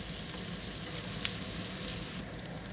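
Large-cut onions sauté in a pan for a peanut chutney, giving a continuous soft sizzle and crackle with a few faint stirring scrapes throughout.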